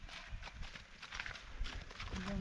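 Horses walking on hard ground, hooves clip-clopping in a loose, uneven rhythm at moderate distance, faint, with voices briefly heard nearby.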